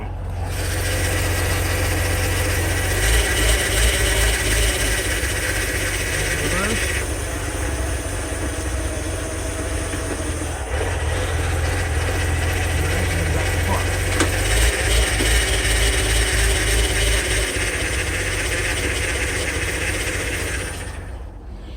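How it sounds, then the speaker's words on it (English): A 2000 Lincoln LS idling, heard from underneath the car, with a steady low engine drone and a faint transmission whine; there is some clunking midway through. "you can hear the whine come back a little bit"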